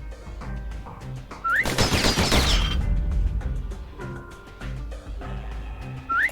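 Rapid pistol fire from the video game Bastion bursts out in a dense, loud volley in the middle, set between quieter game effects and rising chime-like tones.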